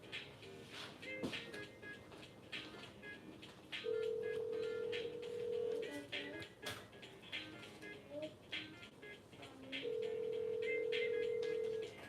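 Telephone call ringing before going to voicemail: two long, faint ring tones a few seconds apart over low background noise.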